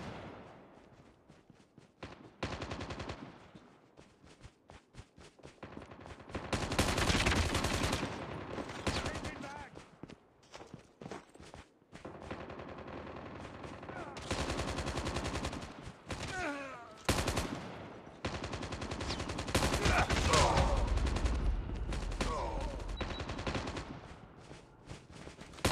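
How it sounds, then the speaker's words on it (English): Rapid gunfire from the mobile shooter Call of Duty Mobile, bursts of automatic shots and single cracks crowding a loud, busy game mix across the whole stretch, with sporadic voice chatter and explosive thumps mixed in. "I got shot!"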